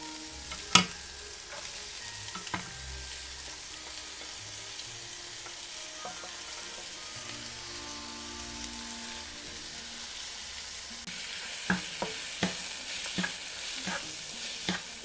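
Chopped onions sauté in a pan for soybean curry, a soft, quiet sizzle under occasional sharp spoon knocks and scraping stirs, with a cluster of clinks toward the end.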